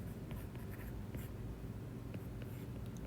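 Chalk or marker writing on a board during a mechanics of materials lecture, a steady faint scratching texture over a low room hum, with no speech.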